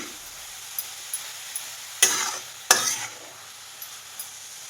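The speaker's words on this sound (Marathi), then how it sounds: "हा जो किस केलेला आहे तो मी आता तुपावरती छान असा परतून घेणार आहे" Grated carrot stir-fried in ghee for carrot barfi, a soft steady sizzle with faint stirring scrapes, broken by two louder bursts of hiss and clatter midway.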